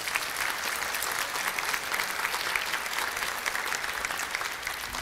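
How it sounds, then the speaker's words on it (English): Church congregation applauding at a Sunday Divine Liturgy, a steady, dense round of clapping from many hands that holds evenly for several seconds without talk. "So you can give him a round of applause."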